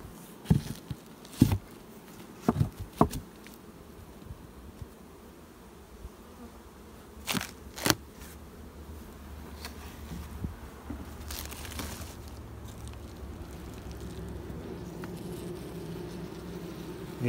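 Bees buzz steadily in a low drone, interrupted early by several sharp knocks and clunks, then the hum continues alone and grows slightly fuller.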